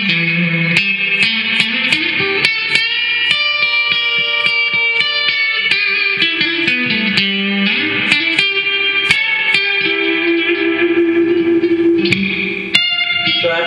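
Electric guitar played through a replacement reverb unit in a Marshall JCM amplifier, chords and single notes ringing with a wet, lingering reverb tail and some distortion, continuous and fairly loud throughout.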